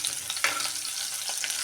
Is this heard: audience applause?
no